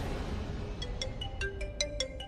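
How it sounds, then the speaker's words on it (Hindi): A phone ringtone in a Hindi TV drama scene, a series of bright electronic melodic tones rising in a quick pattern over a low background hum. "किसका फोन है?"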